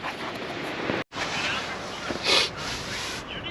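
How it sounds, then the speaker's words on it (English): Steady, strong wind in deep snow roaring and buffeting against the microphone, a constant rushing noise with a brief dropout and gustier swells. "It's windy as can be out there"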